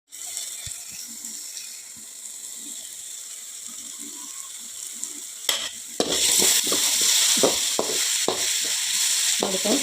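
Ingredients for masala chitranna fry in a pan, a steady sizzle that turns louder and brighter after a few seconds, broken by repeated scraping stirs and clinks of a spoon, close and without talk.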